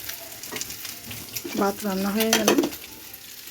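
Food fries in a pan with a steady close sizzle and occasional stirring clatter, while someone speaks briefly over it in the middle.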